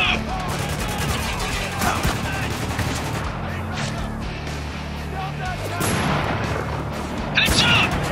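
Gunfire in the combat shooter Spec Ops: The Line, repeated close shots and bursts with heavy booms, overlapping game voices shouting orders.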